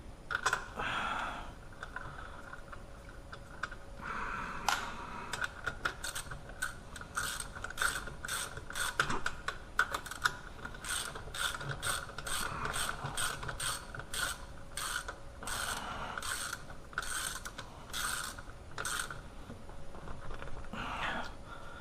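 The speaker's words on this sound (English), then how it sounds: "then you need to torque all the bolts naturally, so it's according to specification" Torx tool tightening bolts on a Porsche 987 brake, a long run of rapid, close ratcheting clicks in repeated bursts with brief pauses between strokes.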